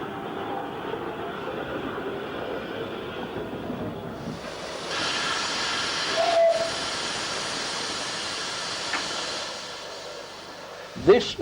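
A steam locomotive on the Nene Valley Railway hisses loudly and steadily, the steam noise swelling midway, with a brief whistle-like tone and a sharp clank near the end, heard from close by.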